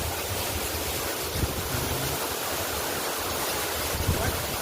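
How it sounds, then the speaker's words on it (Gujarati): Rushing water near Shankar Falls, heard from a distance away from the plunge point, forms a steady, broad roar with low rumble, unbroken and alone throughout. "મેં અત્યારે ધોધ પાસેથી દૂર છું, મતલબ જ્યાં પાણી પડે છે ત્યાંથી દૂર છું"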